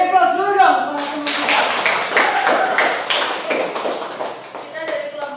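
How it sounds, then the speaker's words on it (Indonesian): Audience applause in a classroom at the start of a group presentation, a dense burst of many hands clapping that swells then thins out over several seconds, preceded by a brief voice. "Beri aplaus dulu dong."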